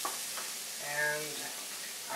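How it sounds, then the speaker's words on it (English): Ground turmeric, nutmeg and cinnamon fry in a pan over translucent onions for an Afghani chicken dish, giving a soft, steady sizzle throughout, with a faint tonal murmur briefly in the middle. "Let's cook that for just a minute."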